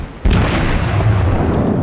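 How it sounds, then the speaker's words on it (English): Heavy battleship cannons from the Kawachi fire in a World of Warships naval battle: a single loud, close boom hits sharply, then a dense rumbling roar sustains through the rest of the moment with no talking. "Just want to see those cannons fly."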